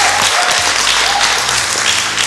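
Audience applause at an office quiz show featuring church committee members, a loud dense burst of clapping from a crowd, sustained evenly for a couple of seconds.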